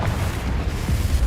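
A Confringo fire-blast spell in the Hogwarts Legacy video game bursts as a heavy, rumbling boom that fills the short moment, loud and close.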